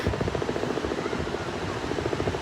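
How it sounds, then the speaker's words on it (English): Steady low throbbing rotor drone of a helicopter, continuous and moderately distant, with no voices. "And there's a helicopter up there somewhere"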